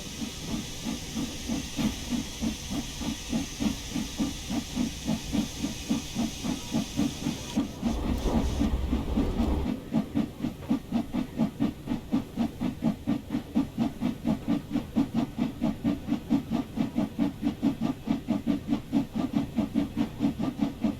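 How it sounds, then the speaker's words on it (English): A steam locomotive in Train Sim World hisses steadily as its steam brake is released on a slow uphill climb. A fast, regular chuff pulses through the long, loud hiss, and a brief deeper burst comes midway. "then let go of the steam brake"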